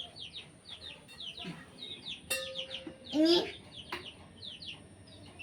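Baby chicks chirp continuously in quick, high peeps, close and busy throughout, while a person speaks briefly partway through.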